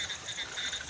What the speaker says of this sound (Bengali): জলার ধারে ব্যাঙ ডাকছে